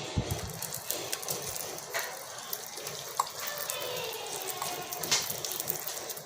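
Oil sizzles on a potato paratha cooking over a low flame on a griddle, a steady close hiss with scattered crackles and pops throughout and no talking.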